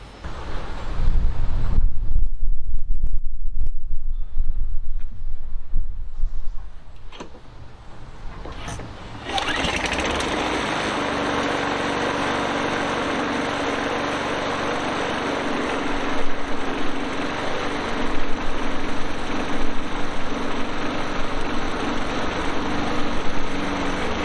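A McCulloch M7053D petrol lawnmower under restoration, with stiff wheels, is cranked with a few rough, gusty attempts. It then catches and runs steadily at a loud, close, slightly uneven idle for the rest of the clip.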